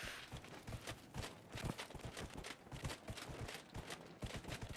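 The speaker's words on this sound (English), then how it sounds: "Oh, he has little armor noises." An armored horse in Dragon Age: Inquisition clip-clops in a quick, steady gallop rhythm, hooves thudding with faint metallic jingling, fairly quiet and without talk.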